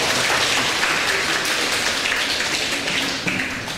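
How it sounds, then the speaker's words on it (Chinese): An audience applauds a lecturer at a talk on freedom of speech and the law, a dense even round of clapping that tapers slightly near the end. "下面大家再一次以热烈的掌声"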